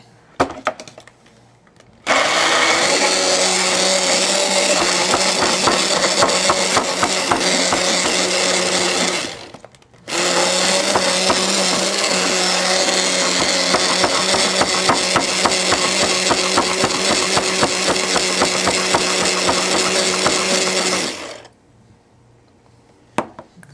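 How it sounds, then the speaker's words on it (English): A loud motorized wand blender whirs steadily for several seconds while mixing aloe vera gel, stops briefly, then runs again for a longer stretch before cutting off. "Wand blender attachment."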